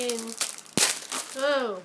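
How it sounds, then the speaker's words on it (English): Crinkling of a gift package sealed with sticky tape, loud crackling bursts near the mic, with a voice and other talk around it. "Sorry about all the crinkling."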